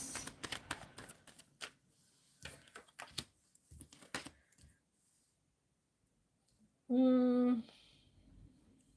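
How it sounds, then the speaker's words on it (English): Tarot cards are shuffled in a series of quick papery riffles and taps, loud and close, then a pause, then a short bright chime. "Shuffling for Jazz."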